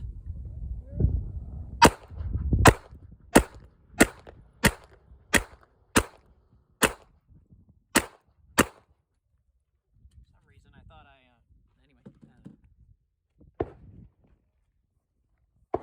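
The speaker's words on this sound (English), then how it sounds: "now I'm going to compare it with the CZ, just trying to get a sense of whether or not it feels about the same in terms of recoil" A CZ TS2 pistol fires about eleven sharp, evenly spaced shots in quick succession after some low handling rumble, then faint clicks and movement follow in near quiet.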